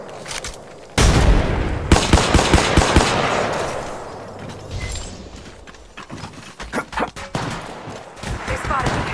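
Rapid automatic gunfire and single shots in Apex Legends Mobile ring out loud and close in a dense burst, then thin into scattered bursts against battle noise, with voices talking over parts of it.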